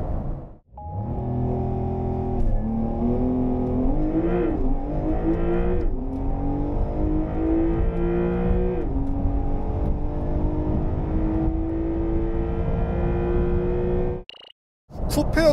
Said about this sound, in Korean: 이번에는 시속 200km까지의 가속을 볼까요?